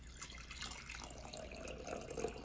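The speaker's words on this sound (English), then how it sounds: "I'm just pouring water halfway." Water poured into a cup for a kids' celery experiment, a soft, quiet, steady trickle and slosh of liquid with no talking.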